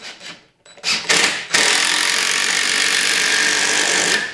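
A power drill drives a 3-inch deck screw into a wooden door frame: a few short bumps and starts, then a steady loud whine from the drill, close by and continuous for about three seconds.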